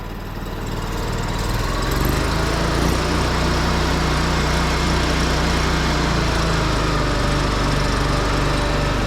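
A pressure washer's engine runs at three-quarter speed, a loud, steady, close drone that holds constant throughout after a brief rise at the start.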